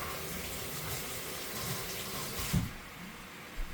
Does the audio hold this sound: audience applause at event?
no